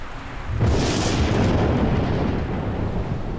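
A loud thunderclap cracks suddenly and then rolls into a long, heavy rumble that barely fades, with nobody speaking.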